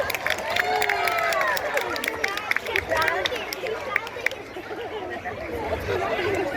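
A lively crowd cheers and chatters for the racing pig Soapy Smith at an all-Alaskan pig race at The Grove in Hollywood, Los Angeles, with steady loud hubbub and scattered whoops throughout.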